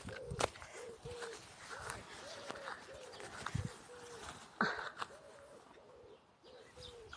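Soft, repeated pigeon coos recur throughout, with a few sharper rustles and taps in between; nearby and moderately quiet.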